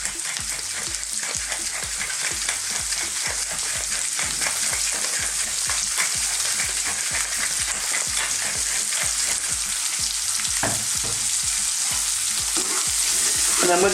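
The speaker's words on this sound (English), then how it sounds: "fry these around for about 2 or 3 minutes on a kind of medium to highish heat" Red onion fries in a pan with salt and black pepper over medium to fairly high heat, giving a steady close sizzle and crackle with repeated stirring scrapes and taps, no talk.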